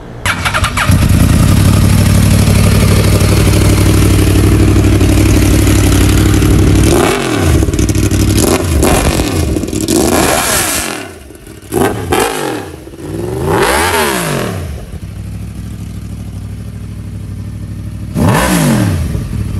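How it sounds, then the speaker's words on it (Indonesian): A 2012 Yamaha YZF R1 superbike with an Akrapovic exhaust fires up and idles loudly nearby, then gives a series of sharp, aggressive throttle blips with quick rises and falls between pauses. "mari kita cuba start tengok ini Yamaha Awan Akrapovic exhaust"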